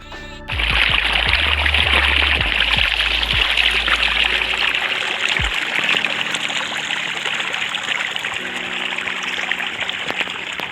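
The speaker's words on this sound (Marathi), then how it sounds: "पाणी चालू झालेलं आहे ह्या मकाच्या प्लॉटला आपल्या पाणी द्यायचं चालू आहे" Irrigation water from a motor pump flows and trickles steadily into a maize field in a continuous splashing stream, with a low motor hum underneath during the first few seconds.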